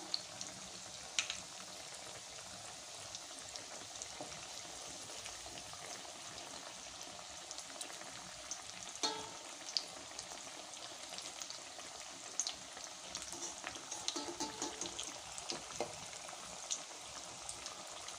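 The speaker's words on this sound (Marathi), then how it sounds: "बघा अशा प्रकारे तळून घ्या." Pea cutlets fry in hot oil, giving a continuous close bubbling sizzle with scattered sharp pops and crackles, alone without speech.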